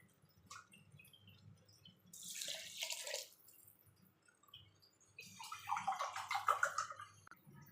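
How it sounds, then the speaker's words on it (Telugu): Water poured into a pot of rice for vegetable biryani, a close, gushing splash in two bursts separated by a quieter gap, with faint dripping and handling noises in between. "1కి 2, 6 గ్లాసులు అయితే నీళ్ళు పోసుకుంటాను"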